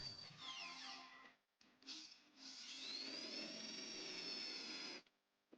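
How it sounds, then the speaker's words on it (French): An electric drill with a 6 mm bit bores through the bushings that hold the gears of an old broken blender, whining quietly at varying pitch in short runs, then a longer steady stretch before stopping. "percez les bagues où sont montés les engrenages avec un foret de 6 mètres"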